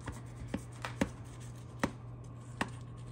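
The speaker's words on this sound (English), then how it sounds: "Okay, so we'll just cut through this." A knife cuts through a pan of baked three cheese manicotti, giving five or six quiet, sharp taps and thuds against the dish at uneven intervals, with no talking.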